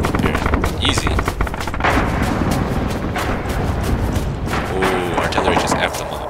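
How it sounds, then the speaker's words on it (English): Gunfire and artillery booms rumble without pause in a snowy winter forest battle in Rising Storm/Red Orchestra 2, with dense, loud shots and blasts layered through the whole stretch. "artillery just effed them up"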